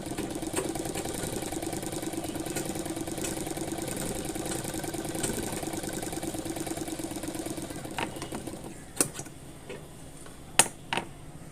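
Sewing machine stitching piping on the side pocket of a pair of trousers, a fast steady mechanical ticking run that stops after about eight seconds, followed by a few isolated clicks.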